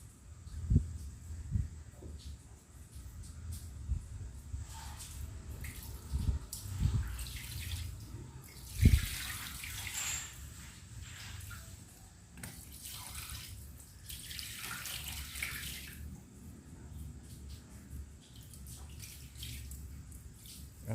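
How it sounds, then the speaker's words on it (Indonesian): Water drains from a tank of freshwater lobsters in a steady, faint running and trickling flow lasting throughout, with occasional splashes and handling bumps nearby. "Kita akan kurangi airnya dulu."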